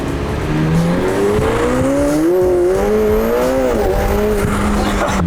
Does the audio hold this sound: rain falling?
no